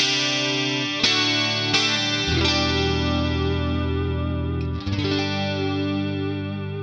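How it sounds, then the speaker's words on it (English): Clean electric guitar through a Boss Katana amp with a wide 80s-style chorus effect, a few chords strummed and left to shimmer and swirl, loud and close with no talking. "So we get a nice wide sort of chorus effect."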